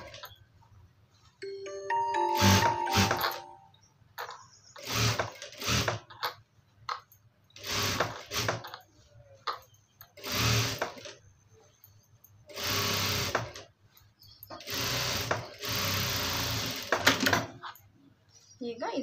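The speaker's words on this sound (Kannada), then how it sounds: "ಮತ್ತು ಆ ಸ್ಟಿಚ್ ಮೇಲೆ ಡಬಲ್ ಸ್ಟಿಚ್ಚು ಈ ಥರ ಹಾಕ್ಕೊಂಡು ಹೋಗೋಣ." A sewing machine runs a double stitch in repeated short bursts of rapid mechanical clatter, close and fairly loud, with pauses between runs and a person talking in between.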